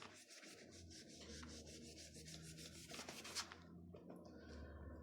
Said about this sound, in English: And then I'm going to rub that out.